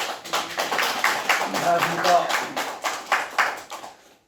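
At a candidate's policy press conference in Jecheon-Danyang, Korea, the audience claps in a brisk, close run of hand claps for about four seconds while someone speaks a greeting over it.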